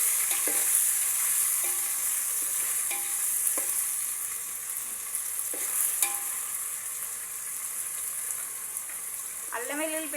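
Ginger-garlic paste fries with a bright, hissing sizzle in a pan while a spoon stirs and taps the metal in scattered knocks, close up, with no talking.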